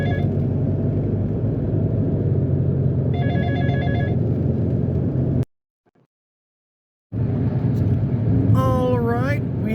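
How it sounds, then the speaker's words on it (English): A mobile phone rings in short tonal bursts inside a Mitsubishi Mirage on an interstate drive, over a steady engine and road rumble that cuts out briefly before the ringing returns with rising tones. "Ah, my phone's ringing."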